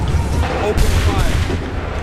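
A musket volley rings out in Assassin's Creed III Remastered, a dense roll of overlapping booms and cracks. The rumble runs steadily for the whole two seconds against loud battlefield noise.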